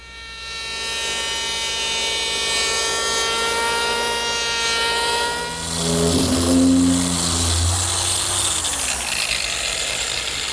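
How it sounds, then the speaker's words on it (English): A handheld electric power plane works along a wooden edge of an armoire face frame, a loud steady whirring drone that swells and roughens midway as the blade bites the wood, then tails off near the end. "So to smooth that out, I'm going to use my handheld power plane."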